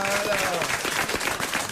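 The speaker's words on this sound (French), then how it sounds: "Je rougis d'être applaudi pour quelque chose de tellement évident." Audience applause at a French comedy show, a dense, steady clapping that fills the whole stretch at close range, with voices audible over it.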